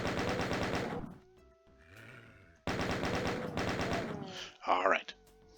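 Gunner enemies firing in DOOM Eventide on the dam map: rapid bursts of machine-gun fire, several volleys separated by short gaps, with growls and a roaring monster cry near the end.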